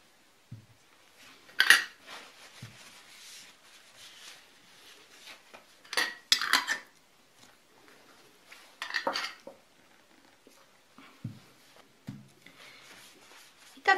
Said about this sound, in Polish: I teraz brzegi słoika wycieram i zakręcam.